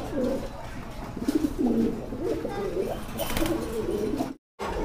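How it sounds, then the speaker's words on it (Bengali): A pair of black Bombay pigeons coo in soft, throaty phrases that repeat again and again over a busy, noisy background. "দর্শক দেখতে পাচ্ছেন এক জোড়া বোম্বাই কবুতর ফুল ব্ল্যাকের ভিতরে"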